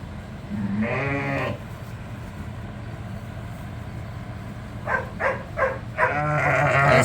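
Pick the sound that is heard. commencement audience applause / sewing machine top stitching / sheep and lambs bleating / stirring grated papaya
sheep and lambs bleating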